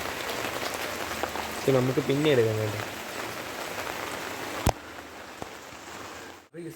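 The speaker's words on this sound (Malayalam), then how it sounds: "ഭയങ്കര മഴയാണ് കേട്ടോ." Heavy rain falling as a steady broadband patter across the whole span, with a voice speaking briefly over it and a sharp knock near the end.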